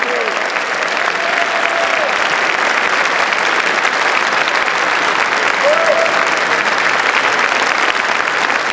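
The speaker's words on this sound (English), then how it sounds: "Let's give one round of applause to Pete for the pal." Loud, dense audience applause for Pete at a tribute concert, continuous clapping from a large crowd sustained throughout without letting up.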